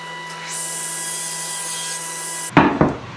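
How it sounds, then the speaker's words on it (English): A saw cross-cuts a wooden board to length for a candle holder, a sustained whining rasp for about two seconds before it stops, followed by a few sharp knocks of wood being handled. "cut the other end to length"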